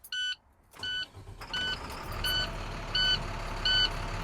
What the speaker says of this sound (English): Now I'm going to start the truck, build the air to 125 psi